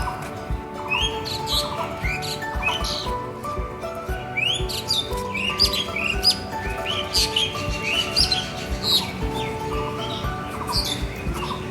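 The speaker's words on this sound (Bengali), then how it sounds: "পাখিটা" A bird chirps repeatedly in a small winter flower garden, bright tweets in quick irregular bursts, fairly close, over a soft background hum, with no talking.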